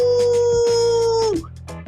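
A person imitates a wolf howl, one long sustained tone that holds steady then drops sharply at the end, loud and close, followed by brief breathy noises.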